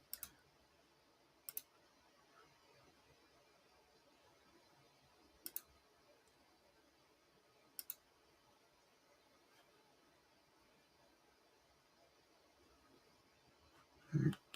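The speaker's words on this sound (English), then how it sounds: "mouse clicking." Computer mouse clicking during SolidWorks CAD knife design work: a few sharp, faint clicks spaced several seconds apart over quiet room hiss, with a louder thump at the end.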